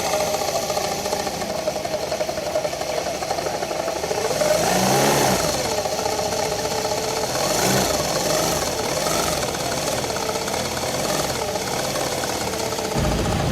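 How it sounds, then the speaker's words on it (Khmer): A motorcycle engine with a loud knocking fault runs at idle and is briefly revved, producing a continuous harsh mechanical clatter close to the listener with no talking. "នៅពេលដែលបងប្អូនជិះម៉ូតូហើយលន់ខ្លាំងបែបនេះ"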